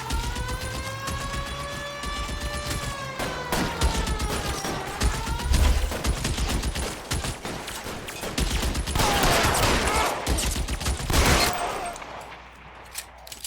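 Gunfire in an L.A. Noire shootout, with repeated shots and bursts crackling over a siren-like wail and a tense music score. The shots keep firing loud and close before fading near the end.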